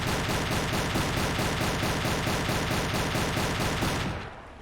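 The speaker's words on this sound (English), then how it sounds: "they're trying to take pot shots at us with an MG" Machine gun fire in the submarine game Silent Hunter 3, a long continuous rapid burst of rattling shots at steady volume that cuts off near the end.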